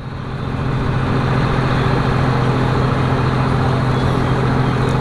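A paddy harvester machine gets underway with a steady, loud engine drone and low mechanical rumble, constant and close throughout, with no talking over it.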